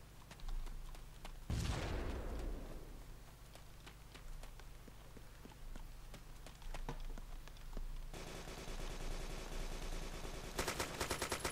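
Distant and mid-range gunfire in an ArmA multiplayer event, a Battlefield-style rush mode with fighting around houses: one loud nearby blast, then scattered pops and crackling shots over steady background noise, finishing with a dense rapid rattle.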